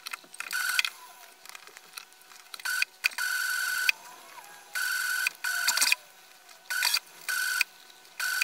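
A sewing machine stitches elastic into a sleeve hem in repeated bursts of rapid whirring, each lasting under a second to about a second, with short pauses between. It is close and steady, and there is no talking.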